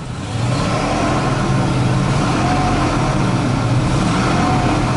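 A 1973 Ford Mustang Mach 1 Grande coupe project car idles steadily and loudly up close, its engine holding a continuous low rumble with no speech over it.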